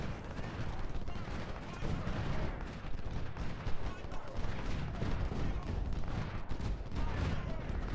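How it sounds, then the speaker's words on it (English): Cannon fire and musket volleys in the Civil War strategy game Ultimate General, during the Battle of Shiloh, roll on continuously as a dense, fairly faint clatter of booms and crackling shots with no pauses. "his artillery is also hitting Sully, just tearing him up."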